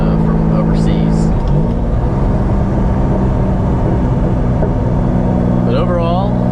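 A 1992 Lamborghini Diablo drives along, its engine droning steadily with shifting revs and a brief rising whine, while someone talks over it.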